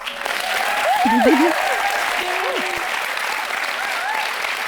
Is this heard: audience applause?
yes